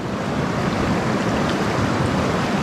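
A creek swollen by rain rushes past in a loud, continuous broadband roar with no let-up and no voices.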